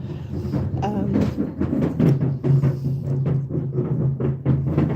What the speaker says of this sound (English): Someone was rolling trash bins.